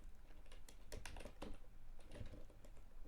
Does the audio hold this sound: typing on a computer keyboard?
yes